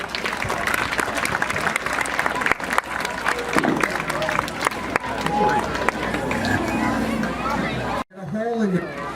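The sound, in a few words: audience applause for police dog Riggs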